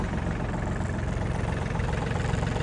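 A tractor engine runs at a steady idle, with a low, even mechanical rumble and rhythmic pulsing that holds constant throughout, heard close up and alone.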